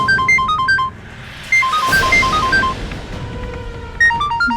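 Mrs Patel's mobile phone ringtone plays loudly in short repeating melodic bursts of bright electronic notes, with a brief dip in the middle before the tune resumes.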